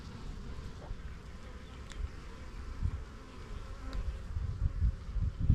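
A soft, steady hum of many honeybees buzzing close by at an open hive during a spring inspection, with a few louder individual insects flying near and occasional light handling knocks.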